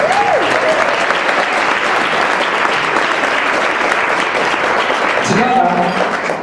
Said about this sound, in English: can we have one more round of applause for Michelle?